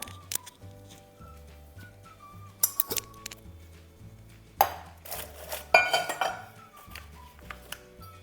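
A spoon clinking against a cup while strong coffee is mixed, repeated bright metallic taps in an irregular rhythm, close and clear with a low hum underneath.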